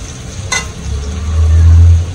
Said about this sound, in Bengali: এখানে মুরগি ভাজা হয়ে গেছে। আর এখন মশলা দিয়ে দিব।